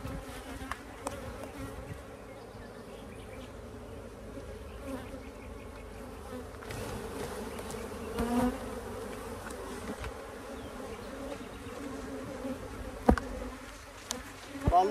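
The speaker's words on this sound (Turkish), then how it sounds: "Üzerinde yine erkek arılar var arkadaşlar." Honeybees, drones among them, buzz continuously around a beehive frame during pre-honey-flow hive work with a queen excluder, a close, dense hum with occasional clicks and handling knocks.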